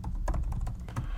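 Quick, uneven tapping of a computer keyboard as a password is typed, close and clear with soft clicks in short runs.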